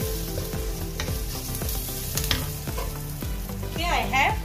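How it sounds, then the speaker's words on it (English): Cauliflower and chopped carrot with spices are stirred in a hot pan, giving a steady sizzle under repeated scraping clicks from a utensil. The sound is close and fairly quiet, with no speech. "here I have cauliflower and some chopped carrot so I'm mixing both"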